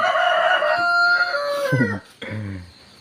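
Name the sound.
chicken crowing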